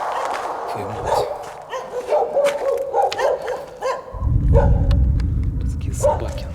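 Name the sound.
dogs barking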